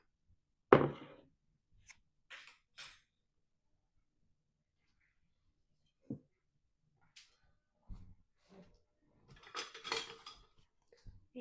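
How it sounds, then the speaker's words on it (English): Flour and salt stirred together in a bowl give a few sparse scraping clinks and knocks of a utensil against the dish, separated by long quiet gaps. "Just give that a little stir."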